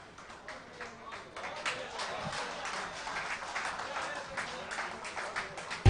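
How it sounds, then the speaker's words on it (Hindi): Audience applause for Ankit sir at a live poetry recitation, a steady wash of many hands clapping at moderate distance, rising slightly and continuing throughout. "जोरदार तालियां अंकित सर के लिए।"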